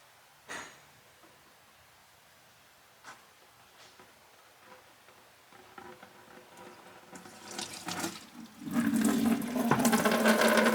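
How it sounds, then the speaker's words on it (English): Coolant drains from the radiator drain plug on a Nissan G35 or 350Z, starting as faint trickling and swelling over several seconds into a steady, louder splashing pour near the microphone. "While the radiator is draining"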